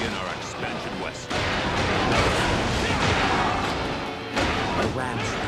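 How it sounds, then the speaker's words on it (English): Battering rams crash through fortress gates during the Battle of Tong Gate in Dynasty Warriors 8, heavy booming impacts over dense battle noise, with a sharp loud hit midway and continuous chaotic clamor. "The rams easily destroy those gates."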